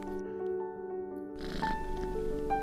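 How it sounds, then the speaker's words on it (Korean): A cat purrs softly in a quiet room, a low continuous rumble with a faint higher tone drifting over it. "고양이가 기분 좋을 때 내는 골골송은 행복의 상징이지만"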